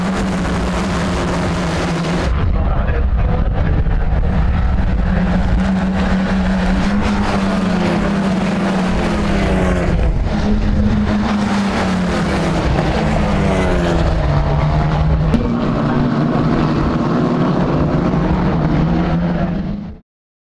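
GB4 championship race cars roar off the start line at Snetterton as a loud, continuous engine drone. Pitch sweeps rise and fall through gear changes as the pack accelerates away.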